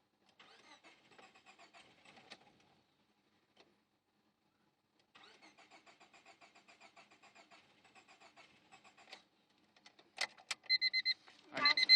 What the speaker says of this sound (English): I'm gonna try and crank it, and you'll see the tach will not move. And it sounds like it almost wants to start.